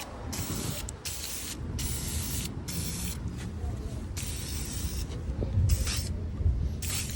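A spray gun lays a first coat of blue paint on the rear of a kei car, continuous close hissing spray in several passes with short breaks, a low background rumble underneath.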